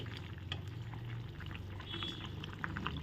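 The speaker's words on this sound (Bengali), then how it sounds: "সয়াবিনের ঝোলটা দেখো সুন্দর ফুটছে" Soybean curry bubbles at a steady simmer in a pot, a soft continuous burble with low popping, heard up close and alone without talk.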